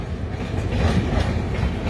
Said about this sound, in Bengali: Dibrugarh two Kanyakumari Vivek express.